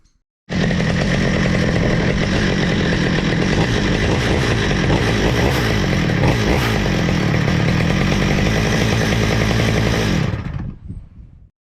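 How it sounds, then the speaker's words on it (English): A Stihl MS200T chainsaw with a freshly cleaned Zama carburetor starts and runs for about ten seconds, its two-stroke engine a loud, steady, close buzz that then cuts out and winds down. "reassemble a carburetor on a Stihl MS200T chainsaw"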